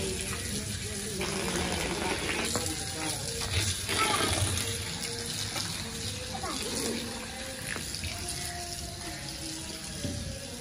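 Water runs and splashes while fenugreek leaves are washed in a village home in Pakistan, a continuous gushing stream with occasional sloshes and clatters, and a voice speaks over it.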